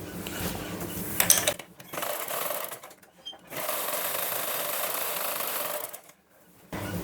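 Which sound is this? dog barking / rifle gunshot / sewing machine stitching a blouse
sewing machine stitching a blouse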